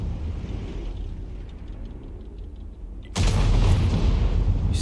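Heavy tank cannon fire in World of Tanks, a big HE shell report that lands abruptly at about three seconds and is followed by a loud sustained rumble; earlier a lower battle drone plays.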